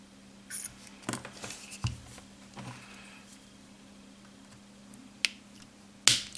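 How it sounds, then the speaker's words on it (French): A few sharp, close snips of cutters trimming coil wire leads flush on an RDTA vape atomizer, isolated clicks separated by quiet gaps over a steady low hum, with a louder snip near the end. "on vient couper nos pattes à ras comme d'habitude"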